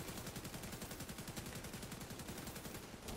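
Sustained rapid gunfire from The Division 2 during the Iron Horse raid, dense overlapping automatic bursts hammering continuously and loudly from start to finish.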